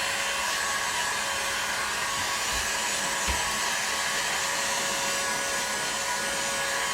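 A heat gun blows hot air onto crepe myrtle bow wood, a steady, even whooshing hiss with a constant whine, unbroken for several seconds with a couple of faint knocks.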